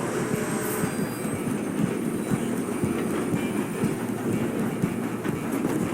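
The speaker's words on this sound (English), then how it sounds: "I'm gonna ride ahead and stop the train" A train rolls along its rails in Red Dead Redemption 2, a steady, dense rumble with faint clattering that holds at an even level from start to finish, with no voices over it.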